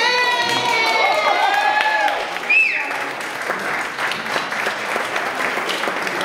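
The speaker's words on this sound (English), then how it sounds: "a nice round of applause" Wedding guests break into applause and cheering after the maid of honor's toast, with a bright whistle-like cheer early on, clapping continuing beneath it at close range.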